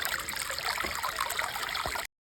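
Stream water flows and trickles around wading boots in a cold creek, a close, steady gurgling rush that cuts off abruptly near the end.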